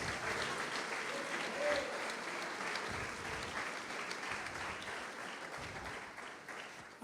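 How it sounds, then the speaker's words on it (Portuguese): A church congregation applauds during a sermon, dense steady clapping heard at moderate distance and tapering slightly toward the end. "pode aplaudir, glorificar o Senhor"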